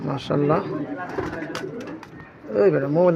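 A cream-eyed racing pigeon kept for breeding, with eggs and chicks, gives throaty rolling coos near the start and again at the end. A person's voice talks between and over them.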